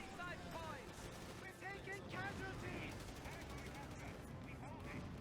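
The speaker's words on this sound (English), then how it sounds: "Nice, the anti-tank guns are doing a great job." Anti-tank guns fire in a World War II strategy video game between DAK and US forces, with faint repeated bangs and clattering gunfire mixed with chirping game sound effects.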